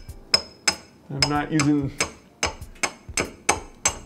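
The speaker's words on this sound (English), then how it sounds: "Just gently tapping with the hammer." A hammer gently tapping a stuck light bulb, a series of light, sharp clinks spaced about every third of a second, close by, with a brief spoken phrase in the middle.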